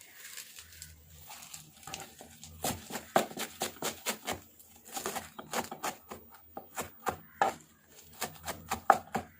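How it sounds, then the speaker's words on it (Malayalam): A knife chopping thazhuthama greens on a board: a rapid, uneven run of close, crisp chops that starts sparse and grows dense and steady. "നമുക്ക് ചീര അരിഞ്ഞെടുക്കാം."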